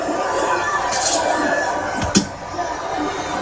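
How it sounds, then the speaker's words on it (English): A boxing video game arena crowd buzzes steadily in the background, a broad murmur of chatter and cheering with one sharp impact, while a commentator talks over it. "The crowd here cannot wait. They've been buzzing all day long"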